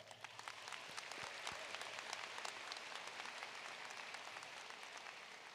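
An audience at the West Ashley High School 2023 commencement ceremony applauds with a continuous, even wash of clapping from many hands, heard at a distance and fairly quiet throughout.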